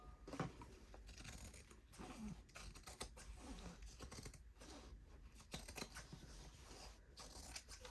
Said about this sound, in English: I'm going to cut this a little bit bigger than I need.